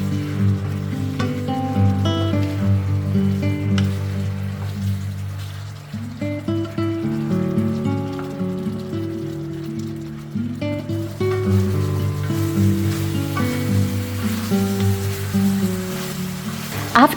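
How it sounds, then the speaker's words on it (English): Pork ribs browning in melted sugar in a hot pan for a Chinese dish give a steady, close sizzle and frying crackle that runs throughout, with music playing over it. "immediately add the ribs and mix well quickly"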